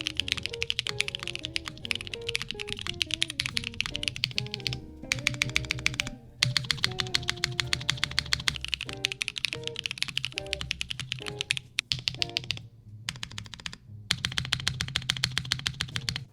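Rapid, continuous typing on a QK65v2 mechanical keyboard in top mount configuration, crisp close-up key clacks in fast bursts with brief pauses between runs.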